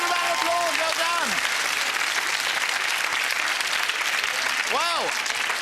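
Studio audience applause on a 1997 British comedy quiz show, dense and sustained throughout, with brief rising-and-falling tonal sweeps over it near the start and again near the end.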